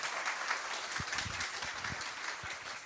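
An audience at a university and city talk concert on local welfare applauds together, a steady wash of many hands clapping at moderate distance, sustained and even throughout.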